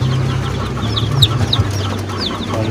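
Heritage chickens in a backyard pen cluck at close range with soft, repeated low clucks and a few higher chirping calls.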